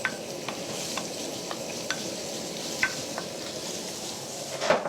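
Small onions sizzle in a hot pan over high heat. The frying hiss is steady and close, with light occasional clicks of a utensil stirring, and there is no speech.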